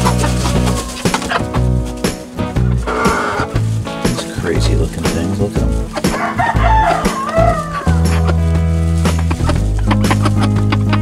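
Shamo chickens cluck and crow in a close, busy jumble of repeated calls, with a voice sounding at times alongside them.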